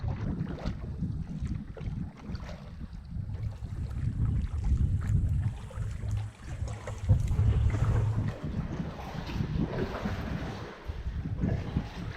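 A 15-foot Osprey solo canoe sets off from a lake access point in Algonquin, with soft paddle and water sounds under steady wind noise throughout.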